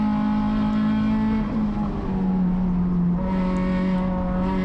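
A USTCC touring race car accelerates around Thunder Hill Raceway, its engine droning loud and close with a steady note that dips briefly, then pulls on again at full throttle.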